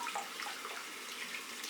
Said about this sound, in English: here at this point I have to run water a little bit because we want to get the soap wet